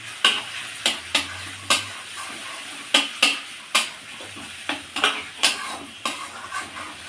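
Fried potatoes stirred into a sizzling spice paste for rui fish horogouri: a spoon knocks and scrapes against the pan in repeated, irregular clacks over a constant oily hiss.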